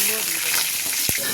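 Potatoes frying in hot oil in a home kitchen make a steady, dense sizzle throughout, close and loud, broken by a brief thump of stirring near the end.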